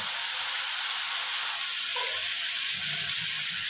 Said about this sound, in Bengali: এবার আমি এখানে মশলা ধোয়া বাটির জলটা একটু দেব